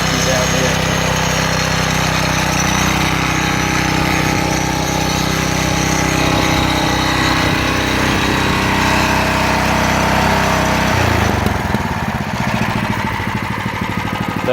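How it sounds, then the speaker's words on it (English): Klicka 15 ton log splitter running with a steady, loud engine drone, its head rattling on the base throughout before the motor note drops near the end as the log gives way. "That rattling, of course, is this head which is moving on its base."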